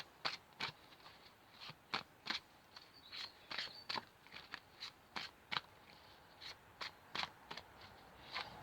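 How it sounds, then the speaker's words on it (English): A deck of tarot cards is shuffled in quick, soft riffling bursts, crisp papery flicks repeating irregularly and faintly against a quiet room. "Shuffle again."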